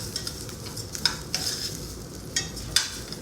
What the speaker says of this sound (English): I'm going to add the garlic to it, and I'm going to stir that up